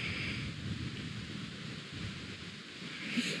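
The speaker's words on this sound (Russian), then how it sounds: "Ветер крутит." Gusty wind blows across an outdoor 50-metre shooting range, a steady broadband rush that swells and eases throughout with no voices.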